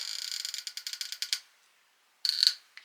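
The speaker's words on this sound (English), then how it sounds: "I'm just going to tighten that bolt back down" A bolt on a Stratos outdoor competition setup being tightened with a ratchet: a quick run of about a dozen sharp clicks, a pause, then a shorter burst of clicking, close and crisp with no talk.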